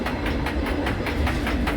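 A freight train rolls past on the rails close by, its steady, rhythmic clickety-clack of wheels over track joints running under a continuous low rumble.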